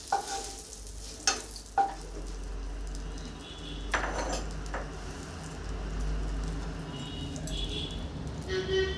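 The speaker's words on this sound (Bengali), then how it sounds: "হালকা করে ভেজে নিই, এই 30 সেকেন্ড মতো রাখছি।" Bottle gourd and prawns frying lightly in oil in a pan, a soft continuous sizzle with a few early clinks and scrapes of a utensil against the pan, close but fairly quiet.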